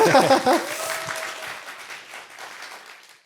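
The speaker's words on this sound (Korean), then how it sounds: "박수 시원하게 주세요" Crowd applause at a live political talk event on a Seoul civil-servant spy fabrication case breaks out as a voice trails off, then rolls steadily and fades gradually toward the end.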